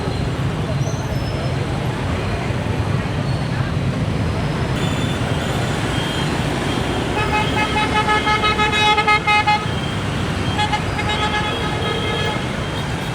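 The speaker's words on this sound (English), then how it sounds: "as you can see, the traffic is absolutely mental." Dense, busy street traffic in Vietnam, moving from District 3 toward District 10: a constant roar of engines with repeated car and motorbike horns honking through the middle, and voices talking under it.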